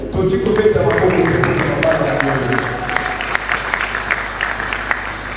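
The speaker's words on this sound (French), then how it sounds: "Est-ce qu'on peut acclamer pour ce mot?" Church congregation at a couples' day service applauding and cheering, a dense sustained wash of clapping with voices mixed in, loud and filling the room, gradually thinning toward the end.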